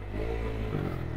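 A Yamaha Aerox motorcycle with a 195cc engine idles at close range, a low, steady exhaust rumble with a slight throaty burble and faint clatter.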